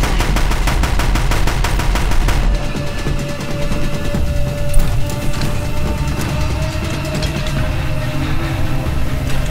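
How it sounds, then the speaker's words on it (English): Rapid, loud, evenly spaced bursts of automatic machine gun fire in Horizon Zero Dawn rattle on continuously and up close, with no voices over them. "machine gun"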